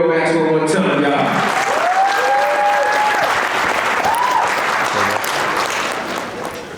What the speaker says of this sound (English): So give it up for The Real Maxwell one time, y'all.